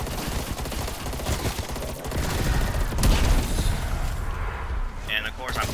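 Rapid automatic FAMAS rifle fire in Cold War Zombies, loud and dense, with overlapping shots and bursts running throughout amid game effects and possible speech.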